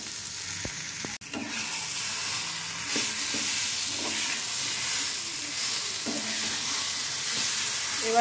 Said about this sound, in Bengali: এবার যাতে জলটা শুকিয়ে যায় সেইভাবে বেশ কিছুক্ষণ সময় নিয়ে নেড়ে নেব